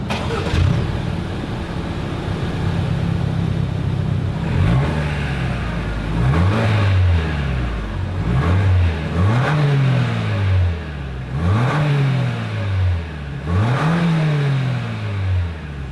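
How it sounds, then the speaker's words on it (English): A 2026 Lexus RX 350 SUV's engine idles, then revs repeatedly, each throttle blip rising and falling in a loud, rhythmic series of throaty exhaust bursts. "As always, here is that exhaust clip."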